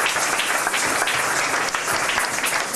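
A church congregation at a Pentecost service claps in dense, steady applause that fills the room, loud and close throughout the short stretch, with no distinct voices standing out.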